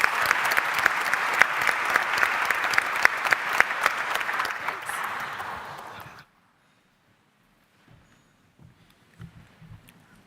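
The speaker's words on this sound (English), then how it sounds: "please give a round of applause to our panel" A forum audience at a climate politics event gives its panel a round of applause, dense clapping for about six seconds that stops abruptly, leaving near silence with a few faint stray sounds.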